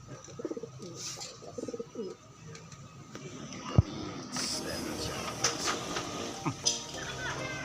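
Pet pigeons coo in low, soft bursts close by while someone talks over them, with rustling and a sharp knock partway through.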